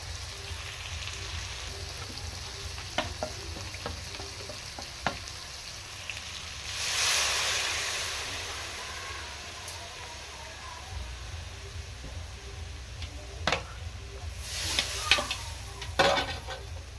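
A wet spice paste of chili, turmeric, cumin and amchur powder mixed with water sizzles and is stirred in a pan for a vegetarian pumpkin curry, with a steady low fry, occasional scraping clicks and a brief burst of hiss partway through.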